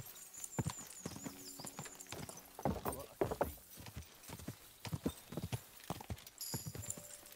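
Horse hooves clip-clop in a quick, uneven rhythm in the video game Kingdom Come: Deliverance II, with a whinny partway through and faint game sounds behind.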